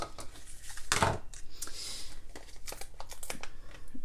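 Scissors snip through paper to trim it to an angle, a few crisp close cuts and rustles of handled paper at a craft table, with no voices.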